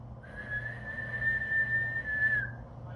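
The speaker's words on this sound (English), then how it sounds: "Soon, a clear whistle echoed through the clearing." One clear, sustained whistled tone holds steady for about two seconds over a low background hum, fairly close and unaccompanied by talk.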